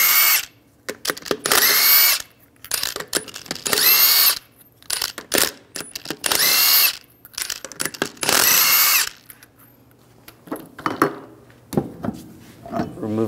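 Power impact tool with a 22 mm socket spins lug nuts off a Ram 1500 wheel in repeated loud bursts of a couple of seconds each, separated by short pauses and quieter clicks, with no talk.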